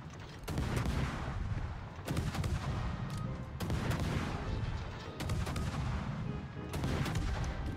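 Warship main guns in the naval combat game World of Warships fire in heavy booming salvos, each blast rolling off into a rumbling tail over constant background noise, with about five separate salvos.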